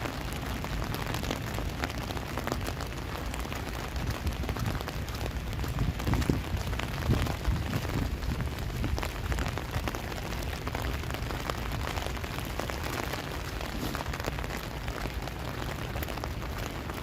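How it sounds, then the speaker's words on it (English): Freezing rain falls steadily on city streets in Toronto on an evening, a dense continuous patter and hiss on hard surfaces that holds even throughout with no voices. "I'm going to get lots of good ASMR rain noises if you like that sort of thing"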